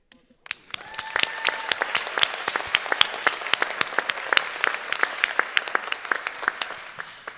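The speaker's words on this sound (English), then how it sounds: "Let's give another big round of applause to Nyla Cross as the moderator." A burst of audience applause at a public media discussion forum, starting abruptly and holding steady with dense, crisp individual claps close by, no talking over it.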